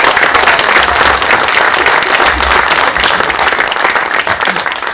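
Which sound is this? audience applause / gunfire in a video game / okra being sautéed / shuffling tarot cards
audience applause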